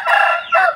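A Burmese rooster on a farm in Cianjur, West Java, Indonesia, gives a short, loud crow close by, a single call rising and then trailing off.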